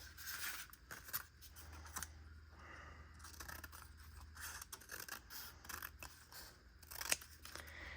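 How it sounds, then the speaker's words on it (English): Scissors snip off the top edge of a sheet of paper while building a 3D lemonade stand papercraft, giving close, steady crisp cutting and rasping strokes throughout. "You just need to cut off this edge."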